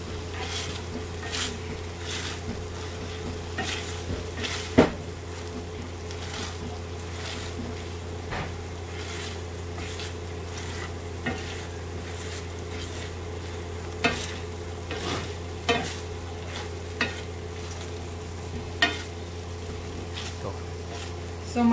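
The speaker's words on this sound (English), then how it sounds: "Now I'm gonna mash all the beans up." Cooked beans in an Instant Pot being mashed, with repeated squishing strokes and sharp clacks of the masher against the pot over a steady low appliance hum, continuing at an uneven pace.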